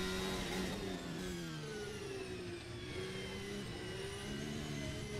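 Formula Hybrid race car engine in a racing video game revving steadily with a whirring mid-pitched drone that shifts slightly as the car accelerates, continuous and fairly loud with no talk.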